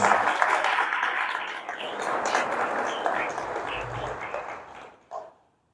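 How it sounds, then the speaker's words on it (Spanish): A church congregation applauds during a service, a strong burst of clapping that gradually thins out and fades near the end, with a brief voice just before it stops. "Dale un fuerte aplauso al Señor."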